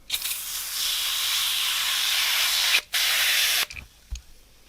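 A long continuous spray hiss of cleaner onto boot laces, briefly interrupted, then resumes before stopping, followed by a couple of soft handling knocks.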